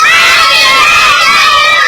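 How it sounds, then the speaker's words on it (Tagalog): A group of children at a birthday party shout together loudly in a sustained, dense chorus that fills the whole moment without pause. "kids, everybody shout, say, Happy birthday, Oj!"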